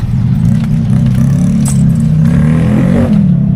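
Motorcycle engines on Burias Island rev and drone loudly and steadily at close range, a dense low rumble from a crowd of bikes with faint clinks over it, no talking.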